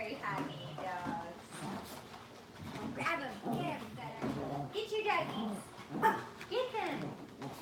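Pet dogs playing together indoors, with repeated yips and barks scattered through the clip under a person talking nearby.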